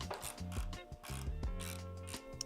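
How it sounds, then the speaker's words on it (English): Someone tightens factory headlight hardware on a Jeep JL with a ratchet, giving close, quick bursts of clicking and zipping pawl sounds in short repeated strokes with brief pauses between. "go ahead and grab your factory headlight hardware and just go ahead and place it back in and tighten it down."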